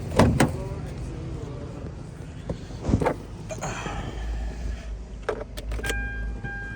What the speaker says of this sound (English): Now I'm gonna start the car. It should start.